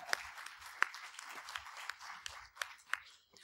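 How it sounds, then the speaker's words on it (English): A small audience at a congress panel discussion claps briefly, a light scattering of hand claps that fades out after a few seconds, fairly faint and distant. "clap for Mike?"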